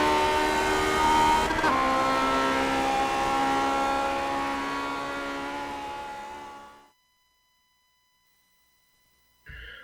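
A race car lapping the combined course at Monza in a racing game, its engine harmonics loud and steady with a gear shift near the start, then falling silent for a few seconds before resuming briefly.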